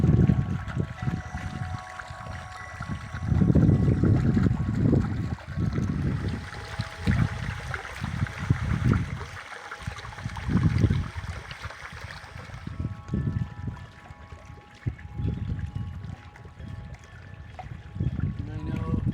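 Water runs and splashes continuously from a homemade garden water fountain, steady trickling and burbling up close, with soft rustling and handling noises over it.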